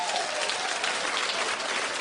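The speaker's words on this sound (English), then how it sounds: "Keep clapping, everybody." A studio audience claps in a steady, dense burst of applause that fills the whole moment evenly, with no break.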